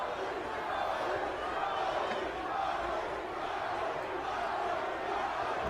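A large wrestling arena crowd roars and cheers in a continuous, loud wash of voices that holds steady throughout, far-off and reverberant, with no distinct speech on top.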